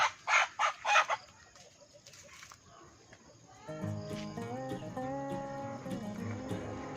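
Native heritage chickens give a few loud, close clucks at the start, then fall quiet, and a melodic background tune takes over.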